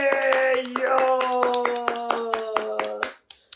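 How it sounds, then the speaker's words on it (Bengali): Children's hands clap in a steady run of sharp beats behind a sung or chanted tone, during an English alphabet pronunciation lesson, close and fairly loud, ending with a few scattered claps. "হাততালি"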